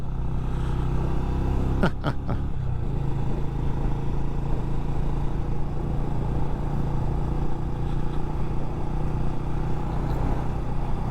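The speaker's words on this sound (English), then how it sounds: "You really can't ask for a better day to have motorcycles out and test riding them." A Benelli Imperiale 400 retro motorcycle hums along at steady speed on a test ride, its engine drone mixed with constant wind rush, with a couple of brief clicks early on.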